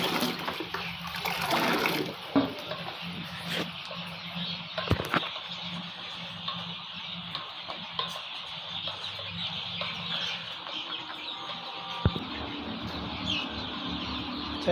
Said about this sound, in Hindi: मैंने पैड का पानी चला दिया है, ये पैड है ना जी, ये पानी अकेला चला दिया है।